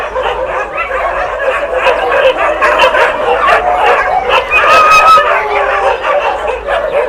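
Dozens of dogs bark, yip and whimper together in a large animal shelter section holding around 120 dogs, a dense, continuous chorus of overlapping barks near and far with a few high whines.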